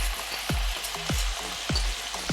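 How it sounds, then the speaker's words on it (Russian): Chopped carrot and bell pepper fry with chicken in a hot skillet, a steady close sizzle punctuated by a few knocks of stirring against the pan. "Нарезанные овощи отправьте курице."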